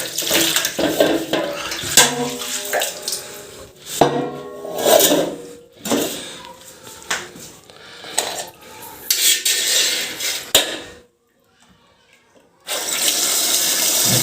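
Tap water runs into a basin for soaking a small load of laundry, two shirts and the like, with clinks of dishes and splashing between bursts of flow, then a brief pause before a steady stream resumes.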